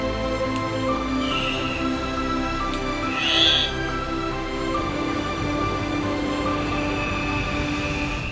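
Birds call in a lush jungle garden behind a house in Jardín, Antioquia, Colombia: a few harsh, fairly distant squawks stand out over a steady background of insects and ambient hum, with no talking.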